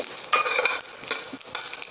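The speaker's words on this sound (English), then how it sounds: "Saute a little till it crackles." Whole spices, jeera, red chillies, curry leaves and peppercorns sizzle and crackle in hot oil, a close, continuous frying hiss dotted with sharp pops and spits, no talking.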